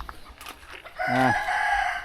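A rooster crows once, a clear drawn-out cock-a-doodle-doo rising then holding, with faint background noise before it.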